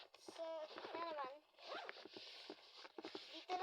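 A pencil case zipper is pulled in a few quick rasping strokes, close and faint, while someone talks softly over it.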